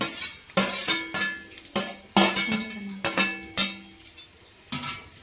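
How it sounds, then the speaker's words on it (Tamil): Onions and green chilies going into a pot over a wood-fired stove for veg biryani, with sharp metallic clanks and scrapes of a ladle stirring against the vessel in an irregular rhythm. "வெங்காயம் பச்சை மிளகாய் போடவும்"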